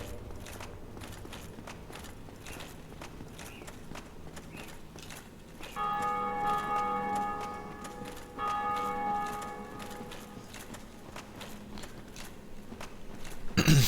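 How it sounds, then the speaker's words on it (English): Bells ring in the Dark Souls video game, a distant metallic peal sounding twice in the middle of a steady ambient rumble and rhythmic background clatter. "you can hear the bells ring in your world when someone in another world rings them"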